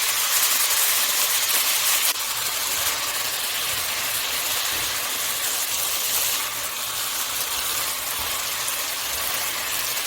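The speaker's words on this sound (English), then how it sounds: "So I'm going to add my meatballs back and stir this up." Meatballs and sauce stirred in a hot pan, giving a steady broadband sizzle and hiss that runs unbroken throughout, fairly close and even in level, with no talk over it.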